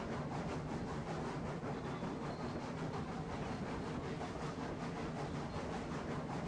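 A Mogul steam train runs through a tight curve in the video game Railroads Online. It makes a steady, loud, rumbling hiss with a faint regular chuffing rhythm and no talking.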